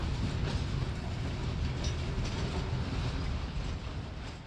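A southbound coal freight train rolls through a rail yard, a loud continuous rumble and roar of wagons with faint wheel clatter, steady and close for the whole stretch.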